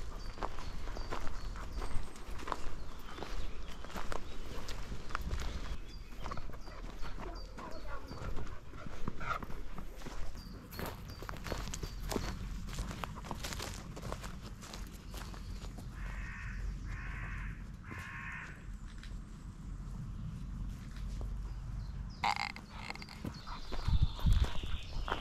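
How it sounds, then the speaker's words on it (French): Horses walking outdoors, hooves clip-clopping in an uneven rhythm at moderate distance, with a dog and crows calling in the background. "Les beaux chevaux."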